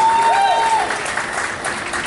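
Cruise ship comedy show audience applauding, a steady wash of clapping throughout with a brief whistle or cheer near the start.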